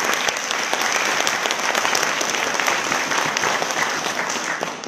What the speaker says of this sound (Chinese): 所以请大家给自己一个最热情的掌声